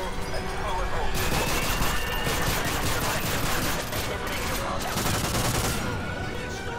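Rapid AA-12 automatic shotgun fire in Call of Duty: Modern Warfare 3, a dense, loud continuous burst of blasts with brief lulls, overlaid by a player's excited talk.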